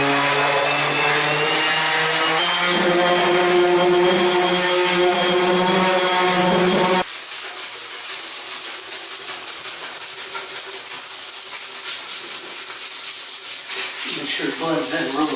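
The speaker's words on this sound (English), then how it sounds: "Now I'm going to sand everywhere minus the areas that I've actually repaired." A power sander works over a porcelain bathtub surface being resurfaced, a steady loud whirring grind throughout with a tonal hum in the first half, then a rougher, noisier abrasive rasp.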